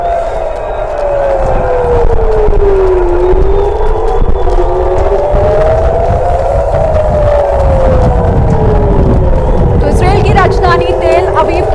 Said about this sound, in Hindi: अलर्ट के सायरन इस वक्त पूरे इजराइल में बजाए जा रहे हैं। वो आवाजें भी आप सुन सकते हैं।